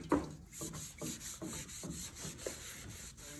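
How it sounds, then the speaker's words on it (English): A cloth soaked in acetone is rubbed over a boat's keel guard to clean it, making a series of close, soft scrubbing strokes in a steady rhythm with no talking. "Now just going to clean the keel guard so it's ready for the adhesive to go on as well."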